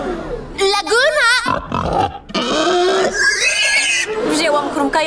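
A cartoon pig oinks in several squealy, wavering grunts, loud and close, with cartoon voices talking around and between them.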